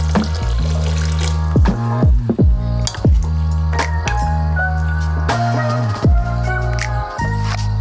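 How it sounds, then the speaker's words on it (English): Water is poured into a pot of beans, with loud, uneven splashing and gurgling that comes in repeated bursts and short pauses. "So next, we're going to add some more water to the pot."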